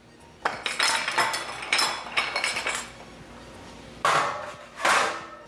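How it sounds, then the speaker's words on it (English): Metal oven tray handled in a home kitchen while making bread pizza, giving a series of clattering clinks and knocks in bursts, with two louder scraping clanks near the end; close, no talking. "So I'm going to bring the tray"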